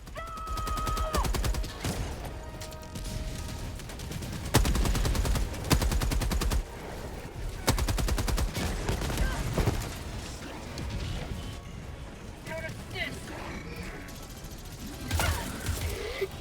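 Bursts of rapid gunfire and rocket shots come from enemy robot troops in a video game bot stronghold, loud clattering volleys broken by brief lulls and mechanical clanks.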